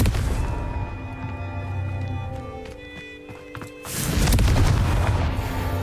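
A Confringo fire spell bursts against a brick target in the Hogwarts Legacy video game, heard as a loud, dense explosive blast near the end after a stretch of game music and effects.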